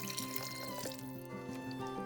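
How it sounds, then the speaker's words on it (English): Water is poured into a pan of semi-dry chicken curry, giving a continuous splashing, trickling pour nearby with brief faint background music. "we are going to add only 1 cup of water to this now"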